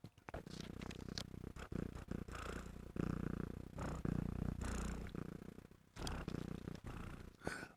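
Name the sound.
cat purring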